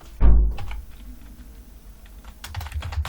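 Computer keyboard typing, a sharp initial clack followed by quieter scattered keystrokes, growing into a faster patter of close key taps near the end.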